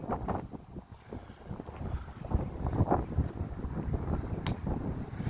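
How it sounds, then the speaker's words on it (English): Wind buffets the microphone in rough, rumbling gusts that rise and fall for several seconds outdoors at Brougham Castle, with no voices. "A bit windy, I'm feeling it."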